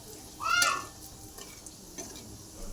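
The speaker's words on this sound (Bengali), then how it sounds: "একটু বেশি করে শুকনো লঙ্কা ফোড়ন দেবো এতে" Dry red chillies hit hot oil with a brief burst of sizzling and a stir of the pan, then the frying settles into a quiet, steady crackle.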